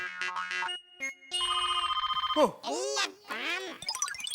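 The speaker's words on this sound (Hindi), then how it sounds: "दया भाभी का अब तक फोन क्यों नहीं आया?" Telephone ringing on a television comedy set, a few clear electronic ring bursts near and loud, followed by voices speaking.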